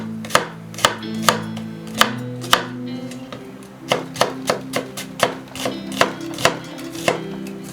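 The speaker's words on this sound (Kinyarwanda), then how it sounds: "Igitunguru cyo ndagikatisha icyuma." A knife chops an onion on a board for a Bolognese sauce, with close, sharp thuds landing roughly twice a second, pausing briefly midway and then resuming at a steady pace.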